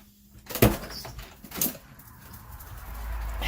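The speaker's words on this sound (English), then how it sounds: "And then watch this when I open the door." A door opens with a sharp knock and clunk, followed a second later by a second rattling bump, then a quiet rising rustle outdoors.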